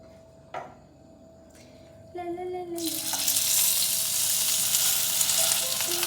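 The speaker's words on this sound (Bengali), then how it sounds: "ফিশটাকে একটু গরম করে নিই।" Tuna fish hits a hot pan and erupts into a loud, steady sizzle after a few quiet kitchen clinks and a brief tone beforehand.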